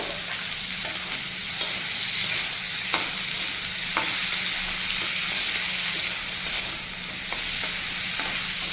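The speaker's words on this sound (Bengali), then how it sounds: "পেঁয়াজের সঙ্গেই শিমটা ভাজা হয়ে যাবে" Flat beans frying with onions in a pan hiss in a loud, steady close sizzle, broken by faint periodic ticks of a stirring spoon, with no voices.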